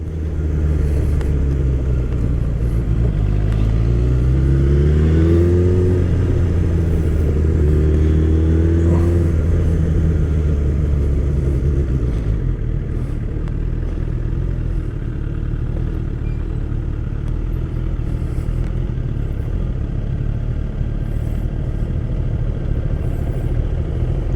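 A heavy motorcycle rolls at low speed through a roundabout, its engine note rising and falling briefly under steady, close rumbling, then settling into a constant drone of road and wind noise.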